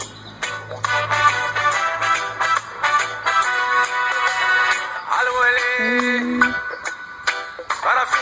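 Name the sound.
song played back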